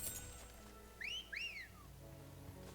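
A character in Final Fantasy XVI gives a two-note rising-and-falling whistle, like a wolf whistle, clear but faint over soft game ambience.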